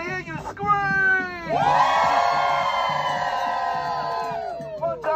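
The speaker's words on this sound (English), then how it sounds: "Everybody in the place, let me hear you scream!" A crowd of WGA picketers screams and cheers loudly in sustained whoops and shouts, rising into a long collective roar near and close.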